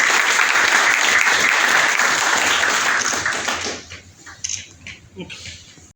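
Loud, dense applause from a crowd at a medical seminar on cancer fills the first few seconds, then fades out into a quieter room with scattered sounds.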